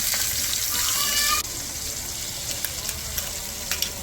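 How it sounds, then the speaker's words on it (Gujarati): Steady hissing sizzle of cumin seeds frying in hot ghee, loud and close, with a brief stir or clink partway through and a few light crackles after. "ઘી ગરમ થઈ જાય પછી તેમાં એક ચમચી જીરું નાખવાનું છે"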